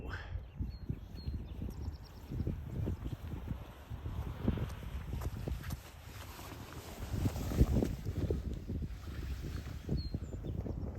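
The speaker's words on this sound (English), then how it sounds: "it's getting a little windier. Might be able to hear it in the mic here" Wind gusting against a microphone high on a mountain climb in Glacier Cone Park, a steady low rumbling roar with swelling buffets, loudest near the end.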